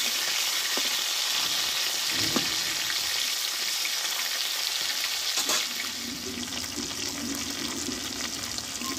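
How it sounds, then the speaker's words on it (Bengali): Oil sizzles and crackles continuously in a pan close up, a steady frying hiss with a few clanks of a utensil, and no voices. "1 পিস মাছটা ভাজা হয়ে গেছে, আমি 1 পিস আমি উল্টিয়ে দেবো"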